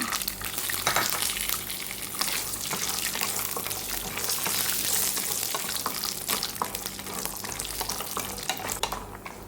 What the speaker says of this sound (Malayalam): ഇതിലേക്ക് കുറച്ച് നമുക്ക് കടുകിട്ടൊന്ന് പൊട്ടിക്കാം